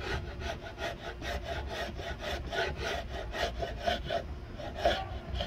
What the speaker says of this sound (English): my little wood chisel's acting like a shave